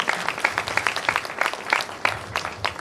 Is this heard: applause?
yes